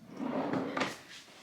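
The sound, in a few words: drawer being opened or closed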